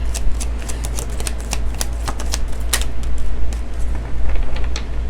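Tarot cards being shuffled by hand, a rapid run of crisp riffling snaps and flutters coming close and steady, with no talk, over a constant low background hum.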